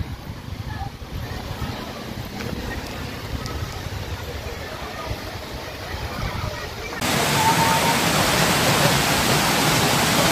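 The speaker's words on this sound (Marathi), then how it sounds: "भाजे धबधबा" Bhaje waterfall pours in a constant broadband rushing roar, heard from nearby, which suddenly grows louder and brighter partway through, with no clear talk over it.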